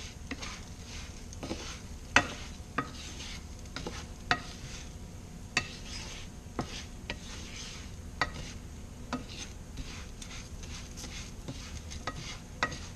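Orzo toasts in a pan while a utensil stirs it, giving a quiet dry sizzle punctuated by regular sharp taps and scrapes against the pan.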